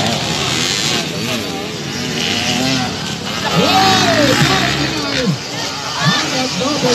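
Enduro power-category motorcycles racing at a 2023 motocross event in Pilar, Bohol, their engines revving and whining at middle distance beneath a crowd murmur and a commentator talking loudly over the action.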